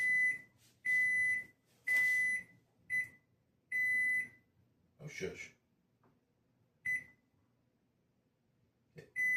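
A kitchen timer beeps in a series of sharp, steady electronic tones, some short and some held for about a second, with pauses between them, while a person speaks briefly in a room.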